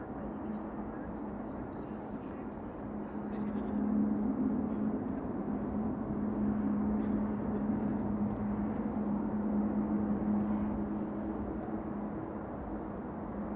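An Airbus A350 arriving at Amsterdam Schiphol Airport, a steady distant engine roar with a low droning hum that swells slightly midway and holds for over ten seconds.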